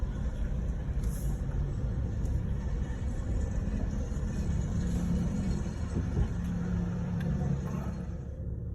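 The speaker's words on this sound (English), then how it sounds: "I'm driving into the site office." A car drives into a site office yard, a steady low engine rumble and road noise continuing throughout, fairly close and even in level with no talk.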